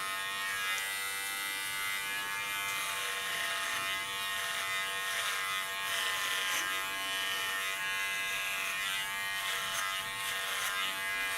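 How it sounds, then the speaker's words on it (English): Steady, close buzzing of electric hair clippers running continuously through thick hair, with faint shifts in tone as they cut; no voices. "Lay my clipper flat."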